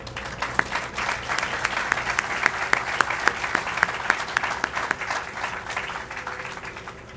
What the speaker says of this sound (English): I think we all deserve a round of applause for that success.